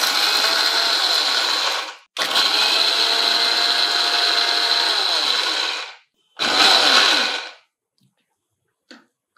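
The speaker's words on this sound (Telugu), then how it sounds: "వేయించిన పల్లీలు పొట్టు తీసేసి ఒక్కసారి గ్రైండ్ చేయండి" Roasted, peeled peanuts are ground in a kitchen mixer grinder: three loud whirring bursts, two long and one short, separated by abrupt stops, followed by a couple of faint clicks.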